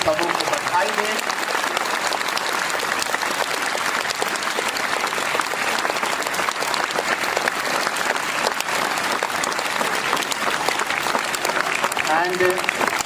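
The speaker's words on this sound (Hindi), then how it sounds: "आइए हम लोग जोरदार ताली बजा के उन सबों को बधाई दें।" Sustained, loud applause from a school audience at a Mother's Day celebration, steady dense clapping that runs throughout without a break.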